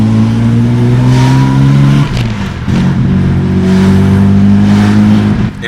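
Ford EF XR6 engine revving while the car drives, recorded close and loud. The engine drones steadily, dips briefly in pitch as it shifts, then climbs again with a rough, heavy tone.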